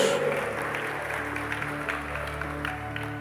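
A church congregation claps together, a moderate wash of applause running continuously beneath sustained musical tones from an organ or keyboard.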